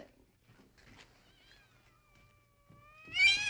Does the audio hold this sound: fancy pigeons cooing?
no